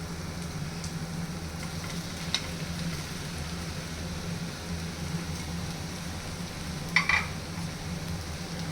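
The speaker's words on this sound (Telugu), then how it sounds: "కింద నుంచి కలుపుకోవాలి. సో దట్ ఎగ్స్ అనేవి విరిగిపోకుండా ఉంటాయి." Boiled eggs being stirred into curry in a pan, a steady low sizzle and bubbling with a couple of sharp spoon-on-pan clinks near the end, no talking.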